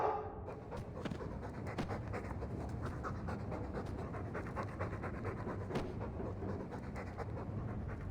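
A dog pants steadily and quickly in Dragon Age II, breathy rhythmic huffs continuing close and fairly loud across the whole stretch without pause.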